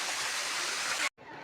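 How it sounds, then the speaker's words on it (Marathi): Somnath waterfall roars as a steady, dense broadband rush of falling water, heard up close, cutting off abruptly and then resuming more quietly. "हा आहे सोमनाथचा धबधबा."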